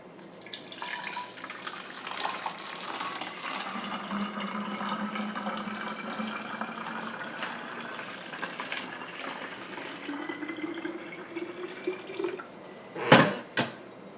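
Tap water runs steadily into a water bottle for a SodaStream Terra, a continuous splashing rush that rises slightly in pitch as the bottle fills, ending with a couple of brief clunks.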